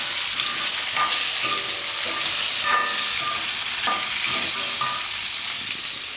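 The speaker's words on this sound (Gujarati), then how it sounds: "બટેટાને થોડીક વાર પાકવા દઈને આપણે મીડિયમ ગેસ રાખીને વચ્ચે વચ્ચે હલાવતા રહીએ." Potatoes fry in a pan over a medium gas flame, giving a steady, bright sizzle with several distinct stirring scrapes spaced a second or so apart, close and alone.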